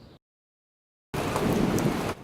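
Steady rain falls in a dense, even hiss on a day of wet weather around DC, Maryland and Virginia, beginning abruptly after a short quiet gap and holding at a constant loud level for about a second before easing.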